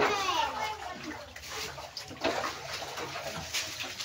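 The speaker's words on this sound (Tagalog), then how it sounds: "Tubig sa ilalim ng lupa siya ba?" Spring water rising from underground flows and splashes steadily, a close, continuous watery rush with faint voices in the background.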